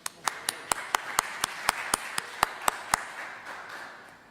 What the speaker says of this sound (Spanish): un aplauso para Bea